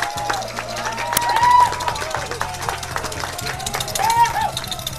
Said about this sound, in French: On applaudit à ma gauche.